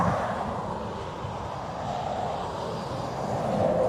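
A Ryanair airliner at Dublin Airport, bound for Barcelona, gives a steady, fairly loud jet engine roar that holds evenly throughout, no voices.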